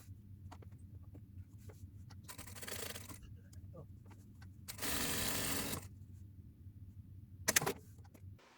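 A sewing machine stitches fabric pieces together while cropped trousers are sewn, in two short, fairly quiet bursts over a low background hum, followed by a faint clatter.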